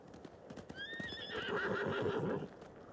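A horse whinnies loudly with a rising, wavering call over the rapid clip-clop of hooves galloping close by, a samurai mount in the video game Ghost of Tsushima.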